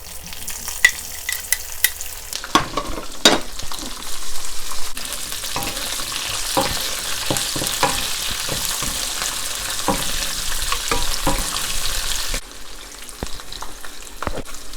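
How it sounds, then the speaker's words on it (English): Bell peppers for Kung Pao chicken hit a hot wok and sizzle loudly and continuously, with scraping stir-fry strokes and spatula clanks breaking through the frying hiss. "Bell peppers going in."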